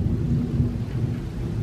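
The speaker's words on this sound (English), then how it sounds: "Ooh, thunder." Thunder outside during a storm, a low continuous rumble with steady hiss that may be rain, fairly loud and sustained with no voices over it.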